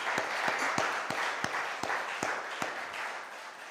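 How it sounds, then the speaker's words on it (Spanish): A church congregation applauds, with a spread of clapping under a few sharp, evenly spaced louder claps cutting through the steady patter. "Dele un aplauso al Señor."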